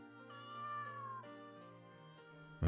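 A voice imitates a cat's meow, one long drawn-out mewing call that slides slightly downward, followed by a short louder burst at the end. Heard alone and close.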